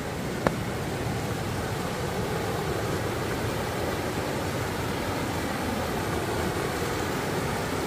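Steady broadband rush of a waterfall pouring continuously into a mountain valley beside a remote village, a constant even roar with one brief click near the start.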